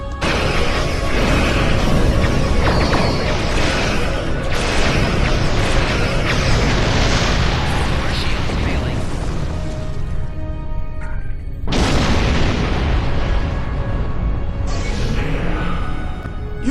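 Heavy booming blasts and crashing bursts of starship cannons in a Klingon-themed Star Trek game roll on continuously, dense and loud, with a brief lull before another barrage of explosive fire.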